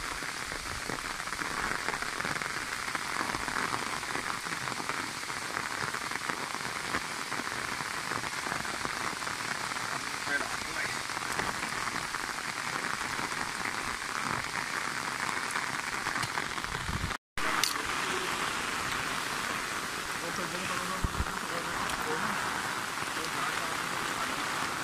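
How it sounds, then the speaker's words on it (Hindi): Heavy rain pours steadily on a farm plot where a pit is dug for a mango tree, a dense, even hiss of drops on surfaces that continues unbroken throughout, with no voice over it. "बारिश पड़ रही है भाई तगड़े वाली।"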